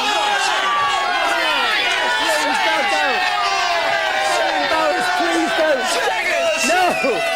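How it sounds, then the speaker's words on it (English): A studio audience at a live millennium New Year's night TV broadcast cheers, whoops and chatters continuously, loud and close, with voices shouting over the crowd noise throughout. "No, please don't cheer."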